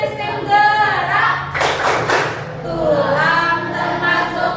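A class claps hands rhythmically during a chant, with a short burst of sharp claps amid children's voices chanting before and after.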